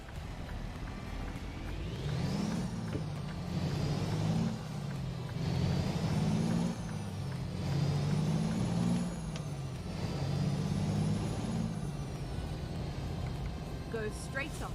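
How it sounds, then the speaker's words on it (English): Raspy, old-sounding truck diesel engine in American Truck Simulator, droning steadily with rhythmic low pulses that rise and fall every couple of seconds, alongside a faint high whine and a voice talking over it. "It's definitely a raspier engine"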